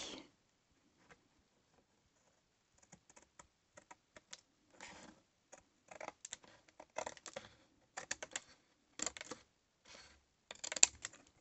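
Scissors snip through paper scraps for a handmade card, a quiet run of short crisp cuts in irregular bursts after a near-silent start.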